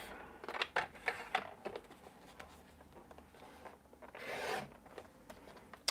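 Card stock is cut to size for a note card with a paper trimmer, giving soft close scraping and rubbing strokes, a cluster of quick slides early and one longer swipe toward the end, all faint.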